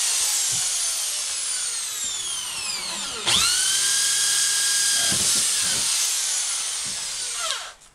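A power drill bores holes for screened louver vents, running steadily with rising and falling whine, a brief pause and restart near the middle, then winding down at the end; close and loud with no talk.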